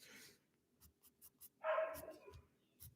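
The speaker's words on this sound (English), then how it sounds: "sorry if you guys hear the dogs" Husky dogs in a home during winter bark in short, sharp yelps scattered through the moment, followed by a longer whining howl, somewhat distant and fairly faint against a quiet room.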